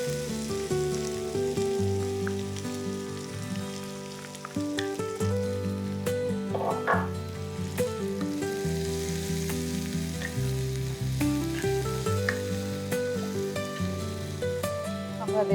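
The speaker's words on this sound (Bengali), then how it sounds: "তেল গরম হয়ে গেছে, এবার আমরা অল্প একটু হিং তেলে ফোড়ন দিয়ে নেব। আর আমরা দেব একে একে পেঁয়াজ কুচি" Asafoetida and chopped onions fry in hot oil for a dahi bhindi dish, making a loud, continuous close sizzle with soft stirring and bubbling throughout.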